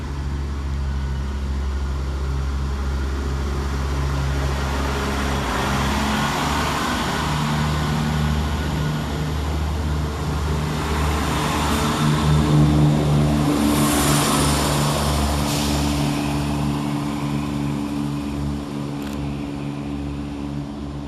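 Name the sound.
ScotRail passenger train at North Queensferry station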